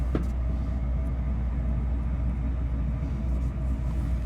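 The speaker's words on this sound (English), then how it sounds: "That's the air conditioning is kicked on." Steady low rumble of the air conditioning running inside the cabin of a 1999 Roadtrek D190 camper van, a constant blowing hum with no talk.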